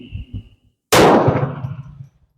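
A single loud gunshot from a Beretta pistol firing surplus .32 ammunition at close range, a sharp crack with a ringing tail, preceded by faint talk.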